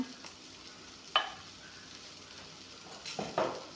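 Ground spice paste frying in a hot pan, a steady soft sizzle with a couple of sharper hisses and scrapes as it is stirred, close and fairly quiet with no voices.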